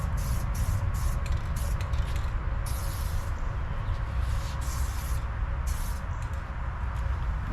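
Black spray paint hissing from a can onto a car part in short repeated bursts, bright airy sprays separated by brief pauses over a low background.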